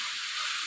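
Minced chicken keema frying in oil, a steady close hiss and sizzle with no voices.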